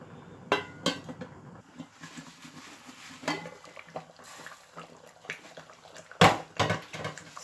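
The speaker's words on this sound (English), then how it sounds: "I'm just going to mix that." A spoon clinks and scrapes against a pot while Ghanaian tilapia fish stew is mixed, with scattered knocks and a louder double clatter near the end; no one speaks.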